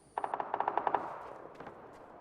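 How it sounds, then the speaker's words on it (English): Distant machine gun fire in the battle royale game PUBG: a rapid burst of about ten evenly spaced shots followed by a couple of fainter echoing reports, heard alone. "I can hear gunshots coming from over there."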